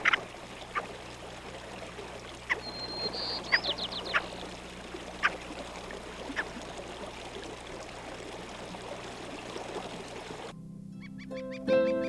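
Ptarmigan roosters in spring willow flats at Twin Lakes give a few sharp, scattered cackling calls at a moderate distance over a steady outdoor background like a running stream.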